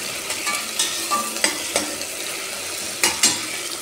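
Minced meat and onion frying in a pan for cheese pasta, close loud sizzling punctuated by repeated scraping strokes of a spoon stirring, with occasional clacks against the pan.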